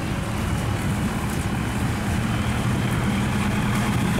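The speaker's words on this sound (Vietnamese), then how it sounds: "Ghe chở những trái dừa khô các bạn." Engine of a boat loaded with dried coconuts, a continuous low droning chug, moderately loud and steady over a wash of water and wind noise on a busy waterway.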